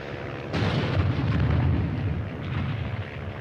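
Artillery barrage in a war film: a heavy explosion bursts in after a brief lull, followed by a sustained deep rumbling roar of shellfire that stays loud and dense throughout.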